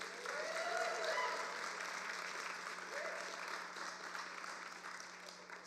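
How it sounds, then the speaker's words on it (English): A crowd at a national political rally gives sustained applause, dense clapping with a few faint cheers, steady and moderately distant, slowly easing in intensity. "Please give Patrick a warm round of applause."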